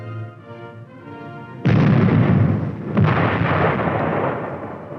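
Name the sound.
M48 Patton tank firing its 90mm gun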